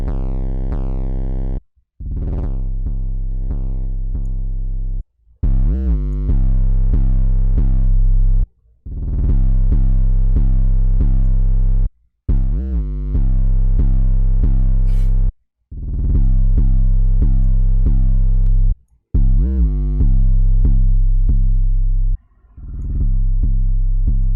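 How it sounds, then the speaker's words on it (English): Deep, heavily distorted 808 bass notes from FL Studio's stock distortion plugin, loud and gritty, played one after another with short gaps between them, each held and sliding in pitch. "Let's use a fruity stock distortion."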